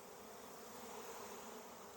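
A caught honeybee swarm hums in a steady, faint buzz as the bees pour out, with no talking heard.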